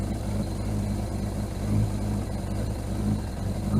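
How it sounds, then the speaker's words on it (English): A 1981 Suzuki GS750 motorcycle engine idles with a steady low rumble that wavers unevenly, running close and alone with the choke held open. "We got ourselves a runner. A little bit of an uneven idle."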